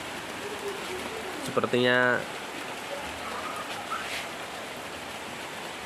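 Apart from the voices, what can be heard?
heavy rain falling outdoors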